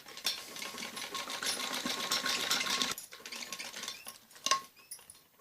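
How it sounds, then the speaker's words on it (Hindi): Electric sewing machine running steadily as it stitches a border onto a blouse sleeve for a padded blouse, a continuous whirring hum that pauses briefly and resumes in shorter bursts, no talking. "ऐसे ऊपर की साइड को भी ऐसे सिलाई लगानी होती है।"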